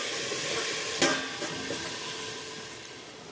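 Chira pulao, flattened rice, frying in a covered pan, giving a steady close sizzle with a few light clinks and stirring knocks, no speech.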